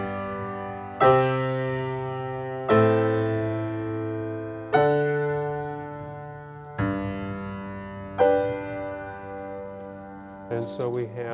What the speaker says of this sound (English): The open voicing is a little bit richer sounding.